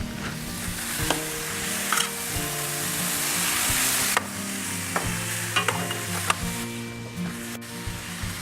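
Texas Wagyu steak and vegetables sizzle loudly in a pan as they are stirred and mixed, with intermittent scraping taps over a steady frying hiss, close up and without talk.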